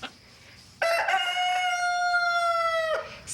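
A blind rooster in a NyQuil cold-medicine advert lets out one long, loud crow that rises sharply, holds steady for a couple of seconds and then cuts off.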